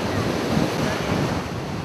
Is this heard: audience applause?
no